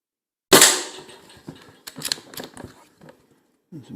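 Crosman 2240 custom .22 CO2 air pistol fired at a metal spinner target, one sharp loud pop followed by a quick series of metallic clicks and clatters as the target spins, nearby.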